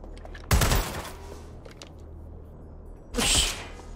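Gunfire in the video game Watch Dogs Legion comes as two sharp, loud bursts about two and a half seconds apart, each a short volley over a low background hum.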